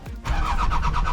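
A car engine cranking and catching after front axle work, a short starter whine that drops into a loud, steady rumbling idle close by, no talk.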